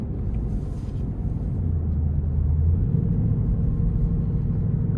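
A 2026 Ford Mustang GT Premium in sport mode gives off a deep, continuous engine rumble heard from inside the cabin, swelling slightly partway through, with no voices.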